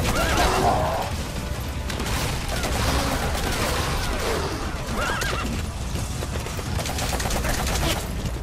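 A horse in the video game Metal Gear Solid V whinnies loudly near the start. Dense gunfire, bursts of shots and battle noise continue the whole time.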